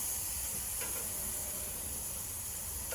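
Venison backstrap on a Primo grill running near 400 degrees, sizzling steadily just after being flipped, a close, even hiss and crackle with no talk.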